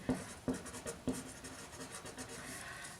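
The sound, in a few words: writing pattern markings on paper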